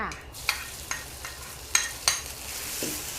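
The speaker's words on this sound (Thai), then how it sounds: "ใส่น้ำมันอีกนิดเดียวไม่ต้องเยอะ ผัดเครื่องแกงกันค่ะ" Curry paste stir-fried in a little oil in a pan for a Thai stir-fried glass noodle dish with cha-om and egg, giving a steady hissing sizzle punctuated by a few sharp spatula scrapes.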